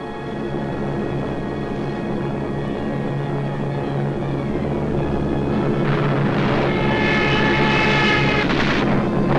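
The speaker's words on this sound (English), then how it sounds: "So the Germans brought up their bombers." German bomber aircraft fly overhead during the WWII attack on Norway, a loud, sustained droning engine roar that swells and brightens toward the end as the planes pass.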